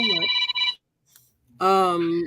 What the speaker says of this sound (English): Oh, my phone ringing.